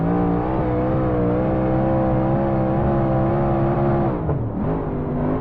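Big block dirt modified race car engine in the iRacing sim at USA International Speedway, a steady loud droning roar with stacked harmonics throughout, briefly dipping as the revs drop near the end.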